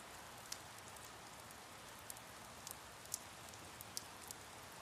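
Steady rain falls with a constant hiss, broken by a few sharp drips or drops landing close by, and no voices join it.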